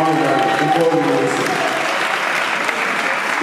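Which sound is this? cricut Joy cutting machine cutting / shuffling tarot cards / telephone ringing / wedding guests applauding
wedding guests applauding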